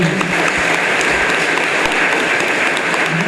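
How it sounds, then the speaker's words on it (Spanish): Audience at a diocesan gathering of Bible students gives steady, fairly loud applause, a continuous wash of clapping with a few thumps and no talk. "Un aplauso para ellos."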